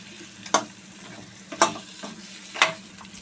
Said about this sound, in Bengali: ভালো করে মাছের মাথাগুলো দিয়ে আর মশলা দিয়ে ভালো করে নেড়ে চেড়ে কষিয়ে নিচ্ছে